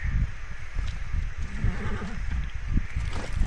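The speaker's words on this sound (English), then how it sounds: "That horse is getting pushy." A horse neighs and clops its hooves in the video game Far Cry 6, close and fairly loud, with the whinny rising mid-clip over low game ambience.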